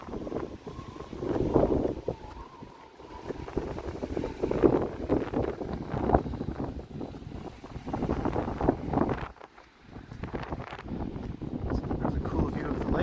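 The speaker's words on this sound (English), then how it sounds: "Wind." Gusty wind on a walk along Queen St East in Toronto, rumbling and buffeting the microphone continuously with rising and falling surges and a brief lull partway through.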